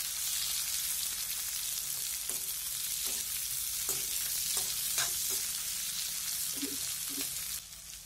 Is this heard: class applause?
no